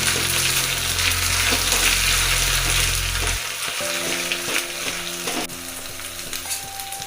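A tempering of green chillies and ginger garlic paste fries in a pan with a steady, loud sizzle and crackle, joined partway by a low hum and faint stirring.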